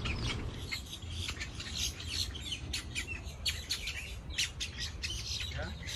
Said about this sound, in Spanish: Todo es pájaro.